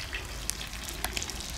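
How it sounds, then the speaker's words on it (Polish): Cutlets fry in a very hot pan, giving a steady close sizzling hiss with small scattered pops and no talking. "Kotlety bardzo ładnie się smażą."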